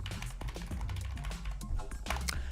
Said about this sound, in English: I'm just typing what I say